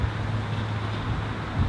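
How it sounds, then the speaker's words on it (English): Outdoor wind on a blustery day at Blackpool buffets the microphone, giving a steady low rumbling roar that carries on through the brief moment with no voices. "As you can see from that tree, it's pretty windy."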